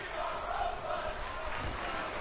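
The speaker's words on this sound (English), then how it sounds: "I believe they are chanting "We love wrestling," but it sounds like an indie crowd chanting it" A virtual arena crowd in the wrestling game WWE 2K16 chants together during a match, a faint, steady rhythmic group chant with no clear words.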